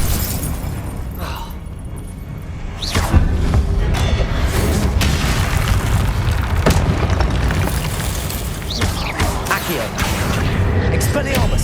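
A Confringo spell in Hogwarts Legacy gameplay erupts into a heavy booming explosion with crackling debris, a sharp onset followed by sustained dense rumble and further crashes, set within dense game combat noise and music.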